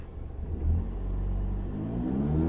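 A manual car's engine revs up as the driver presses the gas while easing off the clutch, a close, deep rumble that rises and holds steady with climbing pitch.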